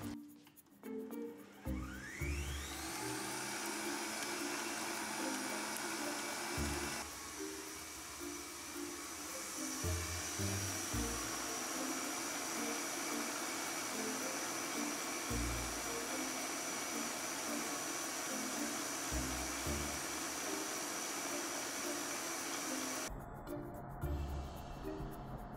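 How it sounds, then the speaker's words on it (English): A stand mixer whisks a batch of egg whites at medium speed, a loud steady whirring motor with a rhythmic lower churning pulse, running continuously before cutting off near the end. "popping our second batch of egg whites into our mixer, because we're going to whisk this up on medium speed"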